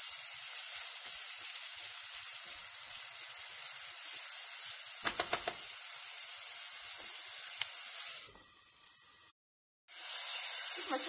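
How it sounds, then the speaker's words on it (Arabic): A large, finely chopped onion frying in a pan gives a steady, soft sizzle and hiss that continues throughout, faint but constant, with a short silent gap near the end. "نقلي البصل هذايا"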